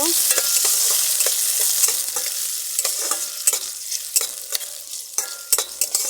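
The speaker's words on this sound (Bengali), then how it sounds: "কাঁচা লঙ্কা টমেটো দিয়ে দিলাম তেলে করে কষে নেব" Green chillies and tomato sizzling in hot oil while being stirred for a chana dal dish, a steady bright frying hiss punctuated by regular scraping clicks of the spoon, close and loud.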